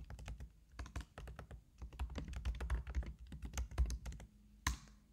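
Rapid typing on a computer keyboard, a close run of sharp clicking keystrokes in uneven bursts, ending with a heavier key thunk, no talking.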